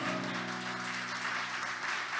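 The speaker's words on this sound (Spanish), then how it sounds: "denle ese fuerte aplauso a Él" Applause from a church congregation, a steady, fairly soft wash of clapping that fills the whole moment, with a sustained tone underneath.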